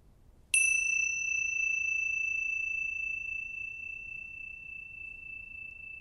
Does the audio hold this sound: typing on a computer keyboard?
no